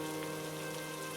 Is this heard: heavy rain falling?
yes